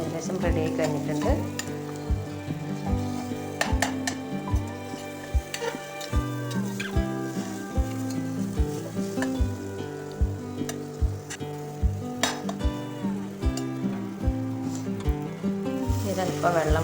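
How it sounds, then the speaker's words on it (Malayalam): Masala sizzles in a pan as it is sautéed and stirred for pasta, with regular spatula knocks against the metal over a constant hiss, while music plays. "ഇതൊക്കെ ഇട്ട് നന്നായിട്ടൊന്ന് വഴറ്റുക."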